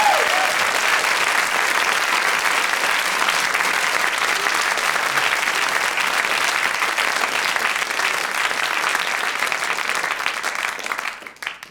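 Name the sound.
studio audience applause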